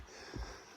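A voice imitates an animal sniffing, a brief burst of breathy snuffling near the microphone, quiet and close.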